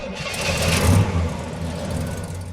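A car engine ignition sound effect, a one-shot: an engine cranks and catches with a brief rev, then settles and fades toward a steady low idle rumble, heard alone without talk.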